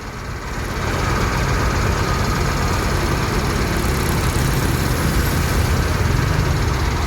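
A PMTOH intercity bus engine runs smoothly at idle, giving a steady, even low rumble that holds unchanged and fairly loud throughout, with no voices over it.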